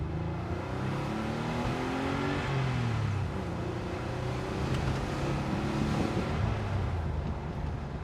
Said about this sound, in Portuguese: barulho clássico do 911 refrigerado a ar aí